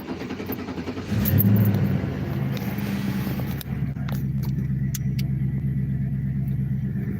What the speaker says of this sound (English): I can't run the lights without starting the car